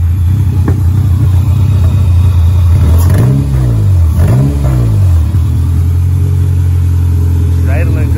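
A car engine runs steadily at a low rumble, with a couple of brief revs rising and falling partway through before settling back to idle.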